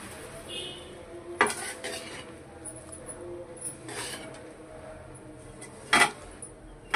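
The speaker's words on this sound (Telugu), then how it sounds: "ఇలా మొరేలు వేసుకుంటూ ఆ వేడి మీద కలపాలి" Puffed rice being stirred into hot jaggery in a pan for laddus, giving soft scraping and rustling with a few sharp spoon clinks against the metal.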